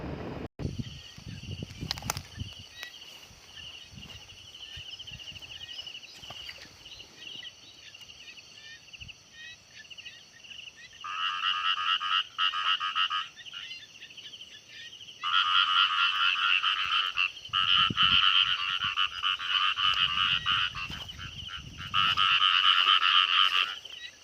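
Frogs croaking after rain, a dense outdoor chorus of rapid pulsing croaks that comes in loud bursts and grows stronger over time, with faint insects beneath and no talking.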